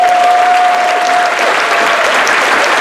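A crowd at a Young Americans for Liberty gathering with Ron Paul claps steadily, a dense, loud, even wash of applause with no speech over it.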